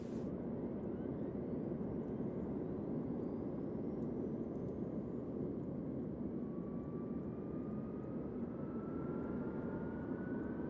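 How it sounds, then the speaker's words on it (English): Avro Vulcan B Mk.2 jet bomber engine spooling up in Microsoft Flight Simulator, a steady loud broadband roar with a thin whine rising slowly in pitch, no talking over it. "Push and release to start engine."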